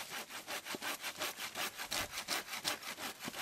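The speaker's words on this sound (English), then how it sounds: "This Trailblazer saw that I'm using here is made in Canada" A Canadian-made Trailblazer hand saw with a Swedish steel blade cuts through wood in about fifteen quick, even back-and-forth strokes, each a rasping scrape, heard up close with no talking.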